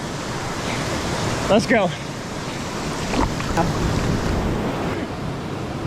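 Rushing water at San Roque Falls in the Philippines fills the scene with a steady broadband roar and some wind buffeting, while a voice briefly speaks over it.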